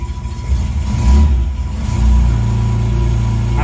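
Car engine revving with the choke pulled in, a steady mid-low drone that swells in two surges before settling into a fast, even rumble, close and loud with no talking.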